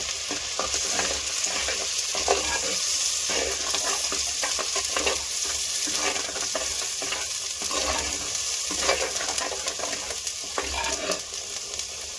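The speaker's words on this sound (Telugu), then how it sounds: "ఆయిల్పై మంచిగా పచ్చివాసన వేదాకా వేసుకోవాలి నూనెలో ఉల్లిగడ్డని" Onion paste fries in hot oil, giving a steady loud sizzle with occasional stirring scrapes throughout, close and continuous with no talking.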